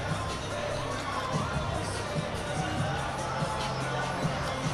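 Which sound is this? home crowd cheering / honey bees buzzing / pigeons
home crowd cheering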